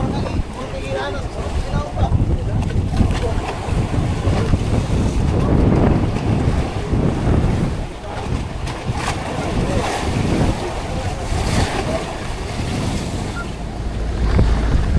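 Strong Pacific sea current and waves wash loudly around a boat and its buoy at open sea, with constant heavy rushing water and gusting wind noise on the microphone.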